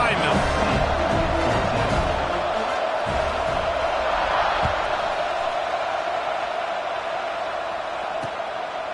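A packed football stadium crowd at a Virginia Tech vs USC game roars steadily through kickoff, loud and sustained with whoops and cheers, and bits of nearby chatter blend into the din.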